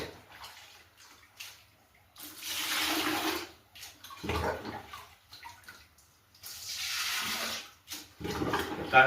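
Water poured into a drum holding four kilos of dark jaggery, arriving in several loud gushing bursts separated by short quiet pauses, close by.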